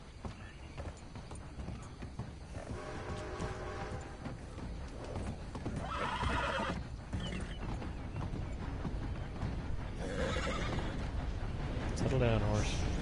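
A horse whinnies several times in Red Dead Redemption 2, over a steady bed of game ambience and hoofbeats, with one longer neigh near the end; someone talks intermittently throughout.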